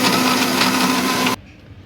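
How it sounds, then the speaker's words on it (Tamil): A mixer grinder whirs loudly as it blends a chocolate milkshake with chocolate and syrup, a steady high-pitched motor roar that cuts off abruptly near the end. "அடுத்து நம்ம மிக்சியில் அரைக்கலாம்."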